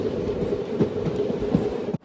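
Chennai Egmore Express rolling into Virudhunagar Junction, a steady low rumble of the train with periodic soft wheel thumps over rail joints, fairly loud and continuous, cutting off abruptly near the end.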